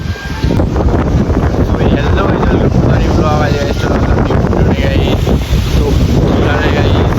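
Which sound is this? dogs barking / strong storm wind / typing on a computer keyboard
strong storm wind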